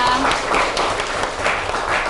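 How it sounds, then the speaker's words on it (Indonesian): Steady applause at a university teacher-certification classroom assessment in Indonesia fills the whole stretch, a dense even patter of many hands clapping at once, fairly loud and close. "Luar biasa, beri tepuk tangan untuk Alexa."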